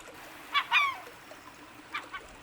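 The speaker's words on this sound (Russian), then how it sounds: "этот край населяют водоплавающие птицы. Разные виды чаек, лебеди, утки и множество других видов." Waterfowl calling in the wild in a Russian nature reserve, among gulls, swans and ducks: two short honking calls close together, then two fainter calls a moment later, over quiet background.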